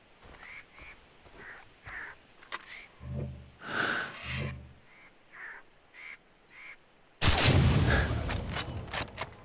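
Gunfire in the Far Cry 3 video game: a few short shots and bursts spread across the clip, then a loud sustained burst of firing near the end, over faint background ambience.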